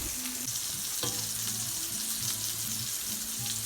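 Homemade sausage frying in a pan, a steady soft sizzle and crackle running throughout at moderate volume, with a few faint clinks and low background hum.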